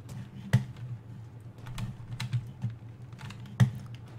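Computer keyboard keys are pressed during a Payday 2 session, a close run of irregular clicks and taps with a few sharper, heavier key strikes and no talk.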